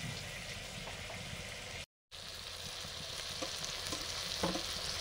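Steady close oil sizzle as fried potatoes and carrots go into spiced masala khichuri in a pan, with a few soft stirring scrapes and a brief dropout near two seconds.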